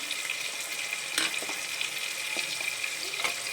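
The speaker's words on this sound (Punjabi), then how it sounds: "ਹੁਣ ਅਸੀਂ ਪਾ ਦਾਂਗੇ ਗੋਭੀ ਫਿਰ ਅਸੀਂ ਪਾਵਾਂਗੇ ਆਲੂ" Cauliflower and potatoes frying in a hot pan, a steady dense sizzle with a few soft stirring clicks, fairly close and continuous throughout.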